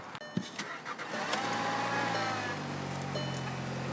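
A car engine turns over and catches, settling into a steady idle after a few faint clicks and shuffling sounds, with no talking.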